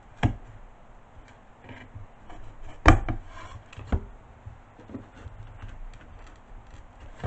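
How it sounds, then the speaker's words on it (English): A stapled hanger is pried off a Dollar Tree wooden laundry room sign, giving a few sharp clicks and knocks with faint scraping in between, close and sparse. "the first thing I'm going to do is remove the hanger. These are stapled in here."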